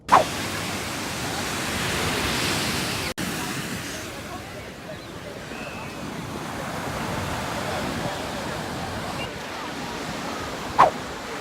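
Beach ambience with ocean waves produces a steady broad wash of surf and wind rumble close to the microphone, interrupted by a couple of brief handling knocks.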